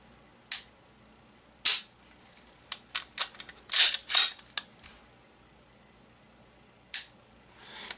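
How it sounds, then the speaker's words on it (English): Crisp clicks from the trigger pull and reset of a Ruger P95 DC 9mm pistol in single-action mode, handled on a tabletop. Several sharp, close mechanical snaps come in an irregular cluster, with short quiet gaps between them. "In single action mode, the trigger is rated at 4 pounds. And reset is short and crisp."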